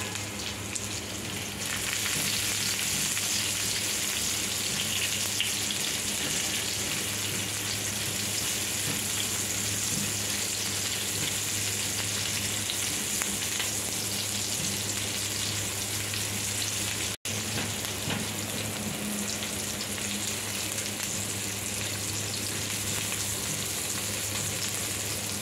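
Shallots fry in a pan with a dense, even sizzle that holds steady for the whole stretch, close and alone, broken by one brief dropout.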